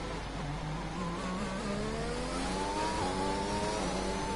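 A race car accelerating hard out of a hairpin in a racing game, its engine note climbing steadily and loudly through the revs with no other sounds.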